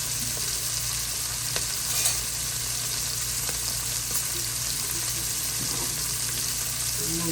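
Pita bread toasts in butter in a pan or on a griddle with a loud, steady sizzle that goes on without a break, along with a few faint clicks; no one speaks.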